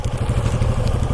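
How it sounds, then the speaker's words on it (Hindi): Motorcycles arriving at the end of a trip through Ladakh, India: close, steady rumbling engine chatter with a thumping, uneven idle beat. "चलो जी, सारी की सारी बाइकें आ गई।"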